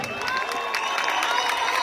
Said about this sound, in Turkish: güçlü bir alkış alalım mı?